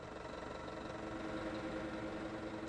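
A tractor engine idles in Farming Simulator 2017, a quiet, even low rumble with steady mechanical vibration running unchanged throughout, no voices.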